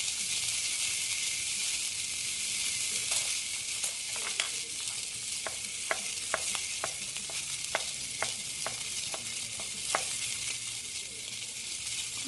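Shrimp for shrimp scampi sizzle steadily in a frying pan, a soft constant hiss with scattered faint pops and crackles throughout, no talk.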